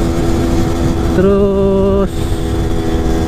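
A 2003 Yamaha F1ZR two-stroke motorcycle with a modified, thinned-out exhaust runs at a loud close idle and gives one brief rev lasting under a second, with a short spoken word over it.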